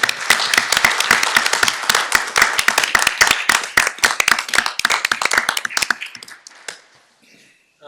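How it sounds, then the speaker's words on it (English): Audience members at a school board meeting clap together, sharp close hand claps in a quick run that stops abruptly, leaving a faint tail of room sound. "Good clap."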